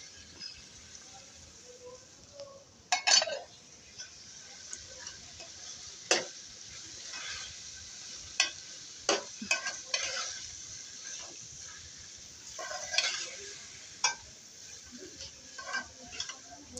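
Spinach and liver cook in a pan with a soft, low sizzle under scattered clinks and scraping stirs, while quiet speech comes and goes.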